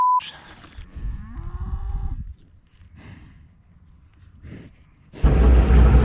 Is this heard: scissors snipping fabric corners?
no